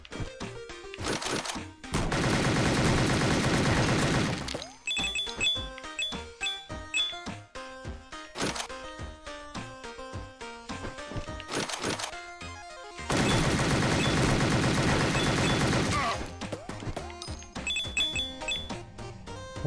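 Gunfire in the video game Rot Gut, bursts of loud rapid shots with metallic clinks, two long sustained volleys separated by scattered single shots and clattering effects.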